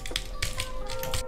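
Keys on a cheap 2-euro keyboard clack in quick irregular bursts of tapping while Fortnite is played, close and clear above a faint steady hum.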